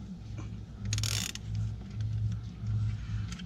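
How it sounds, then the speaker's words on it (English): Ratchet fitted with an 18 mm socket loosening an ATV wheel nut, a series of close mechanical clicking ratchet strokes in a steady rhythm, with no talk. "you're just going to use your 18 mil socket here"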